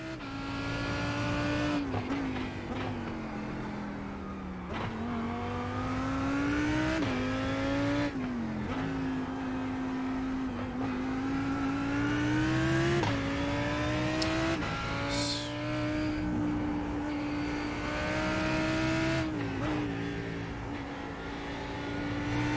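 GT race cars in a sim racing game roar off the start of a sprint race at Okayama, engines revving and shifting repeatedly as a pack drones together, loud and continuous.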